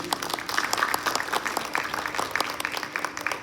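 Audience applause at a high school hall of fame event, a dense patter of many hands clapping steadily at moderate distance, with a faint voice underneath.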